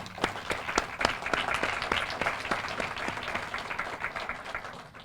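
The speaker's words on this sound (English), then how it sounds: "So for you, an applause for you tonight too." An audience applauds at a graduation ceremony, with a burst of separate, fairly close claps that swells into steady clapping and then thins and fades toward the end.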